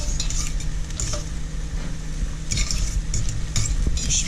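Rice stirred in a frying pan, with continuous sizzling and occasional scraping and clinks of a utensil against the pan, close and steady, no talking.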